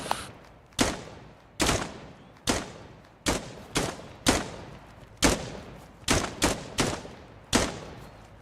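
Gunfire in the video game Dagger Directive, heard as about a dozen sharp, loud shots in an irregular rhythm, each followed by a short echoing tail, with no talking over them.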